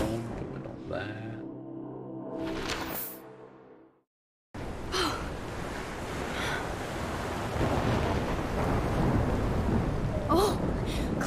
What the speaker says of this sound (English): Storm is still a storm, but we're not there.